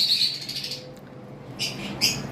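A white face fallow female cockatiel calls close by: one drawn-out shrill note, a pause, then two quick sharp calls, with no talking.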